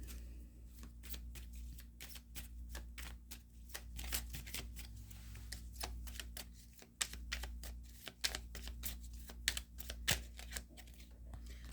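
Tarot cards being handled and shuffled, a dense run of crisp riffling flicks and snaps close by with a steady low hum underneath and no talking.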